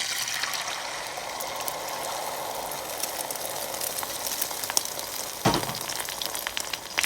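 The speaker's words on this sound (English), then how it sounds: "I think the oil is ready. Now we're gonna put the eggs in now." Eggs frying in hot oil for an Asian-style omelette, a steady broadband sizzle and crackle throughout, with a sharper pop or splatter near the end; no talking.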